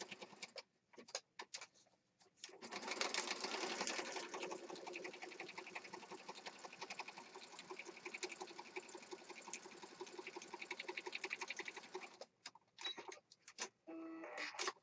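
A sewing machine stitches a mixed-media junk journal, starting with short stop-start bursts, then running steadily for about ten seconds in a fast even rattle before more brief bursts at the end.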